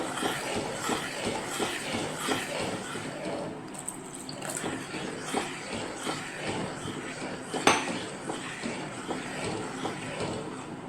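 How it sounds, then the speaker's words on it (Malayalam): A spoon stirs jackfruit payasam with added coconut milk in a pot on the stove: close, steady wet swishing and scraping with light metallic clinks against the pot, plus one sharper knock partway through. "ഇതിലേക്ക് തേങ്ങാപ്പാൽ ചേർത്ത് കൊടുക്കാം. നന്നായി ഇളക്കി കൊടുക്കുക."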